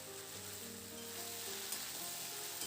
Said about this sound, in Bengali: খুব ভালো করে আমি এখানে নাড়াচাড়া করে নিলাম